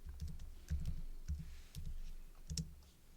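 Soft clicking keystrokes on a computer keyboard while a chord symbol is typed in music notation software, a handful of quiet, irregular taps alone in a still room.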